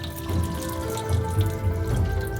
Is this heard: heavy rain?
no